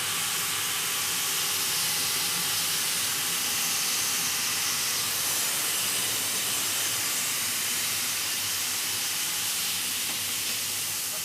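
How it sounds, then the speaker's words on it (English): A pair of safety valves on a steam locomotive lift during a steam test, giving a loud, continuous, even hiss of escaping steam that holds steady throughout with no talk over it. "Pair of valves lifting now"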